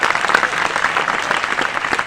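A crowd at an open-air poetry recital, a kavi sammelan in Jhalawar, claps in a dense, sustained burst of applause that stays loud and even throughout, with no voice heard over it.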